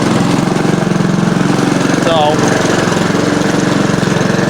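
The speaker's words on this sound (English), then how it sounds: "Honda lawnmower, people." A Honda HRR216 self-propelled lawn mower with a Honda OHV GCV engine runs steadily up close, a loud continuous drone with a brief whine partway through and a single spoken word over it.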